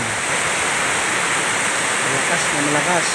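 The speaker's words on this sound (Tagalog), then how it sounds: "Po, lumakas po ang ulan." Heavy rain pours down on a farm in a dense, constant roar of hissing water, with a faint voice briefly rising near the end.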